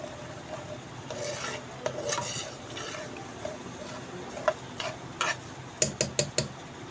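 Spices dry-roasting in a hot pan for green chilli fry, with soft scraping and stirring, a low crackle, and a few sharp ticks and clinks toward the end, close and moderately quiet.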